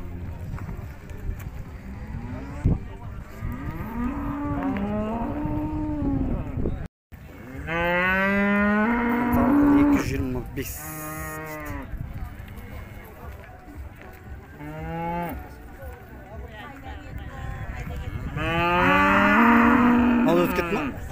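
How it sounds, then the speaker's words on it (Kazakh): Cattle at the Urzhar livestock market moo repeatedly in long, drawn-out calls, some near and loud, over steady crowd chatter and talk. "Жақсы сиыр екен."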